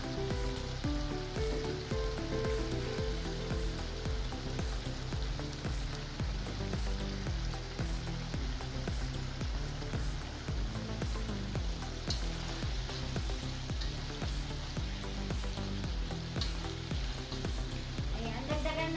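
Okra and bitter gourd sizzle and fry in a hot pan for pinakbet, a steady close crackling hiss with occasional stirring scrapes throughout.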